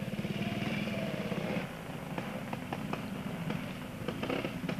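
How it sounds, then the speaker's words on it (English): A BSA C15 motorcycle at an off-road trial runs with a throbbing single-cylinder beat that fades after a couple of seconds, leaving faint crackles and knocks in the background. "Malcolm Hall, C15 BSA. Good ride for a 1."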